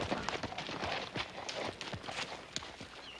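Horse hooves clip-clop in a steady walking rhythm, a rider arriving on horseback in an old Western frontier setting, the hoofbeats fairly close and loud against a busy outdoor background with no talk over them.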